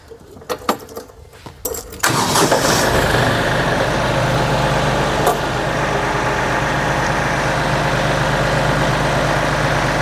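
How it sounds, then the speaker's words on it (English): A gear drive tractor engine cranks briefly with a few clicks and clunks, then catches and settles into a loud, steady diesel idle that runs without a break to the end. "you need to make sure everything's met in order to start the tractor"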